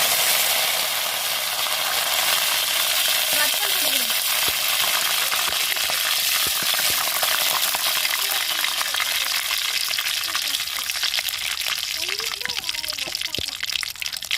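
Curry leaves hit hot oil in a pan and set off a loud, dense, steady sizzle that crackles continuously from start to finish, close up.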